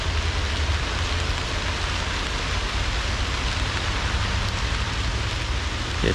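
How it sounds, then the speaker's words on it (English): Steady rain falling in a hillside forest on a late October day, a dense, even hiss of drops on leaves and ground with no voices. "late October, rainy day."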